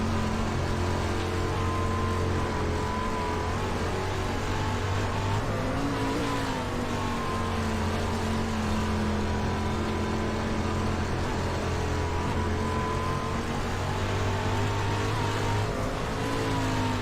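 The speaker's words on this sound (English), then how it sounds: "Just listen to his throttle and different stuff as we go silent here for a lap around Volusia." A dirt-track race car engine drones steadily from onboard during a lap of the half-mile Volusia Speedway Park, loud and constant with a rising and falling throttle pitch and no voices.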